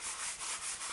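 Margarine paper rubbed over a cake tin makes a soft, rhythmic scrubbing swish in close, even strokes, repeating about four times within a second.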